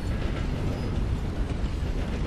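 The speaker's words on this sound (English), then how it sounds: "I've got to wait for the train to go past" A train rolling past in Red Dead Redemption II, a steady, continuous rumble and clatter of rail cars close by, loud and unbroken throughout with no talk over it.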